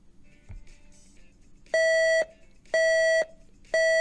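A hearing-test tone plays as three identical loud beeps, each about half a second long and about a second apart, all at one steady pitch. A faint knock comes just before them.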